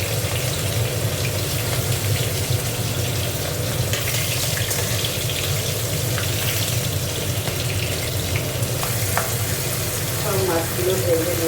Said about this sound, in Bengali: দেখো মাথাটা আগে ভেজে নিই।